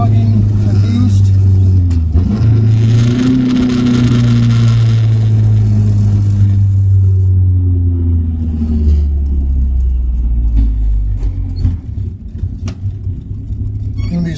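A car accelerates during a low-boost tuning run, its engine droning loud and close as the pitch rises through a gear, then easing off with clattering rumble, while someone talks over it.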